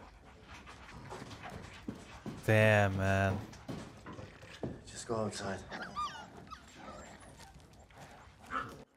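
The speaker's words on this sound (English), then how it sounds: "Dog sounds like it's suffering already." A dog pants and whimpers in a scene from the Chernobyl drama series, with strained, whiny yelps rising over a low room bed while people talk nearby.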